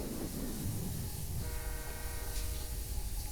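A train passes a level crossing with a steady rumbling roar and a brief horn-like tone, heard fairly faintly and alone.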